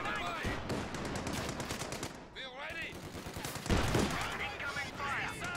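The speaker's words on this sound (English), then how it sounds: "Now the sniper opens up on these riflemen, forcing them back." Sniper shots and machine gun fire ring out in Company of Heroes 2 real-time strategy battle, dense rapid bursts of gunfire and clattering impacts with a pause midway, loud throughout under a speaking commentator.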